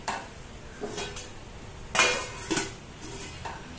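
A metal lid is set onto a pot of prawns cooking for prawn rice, with a few close kitchen clanks and one clear metallic knock amid faint background noise.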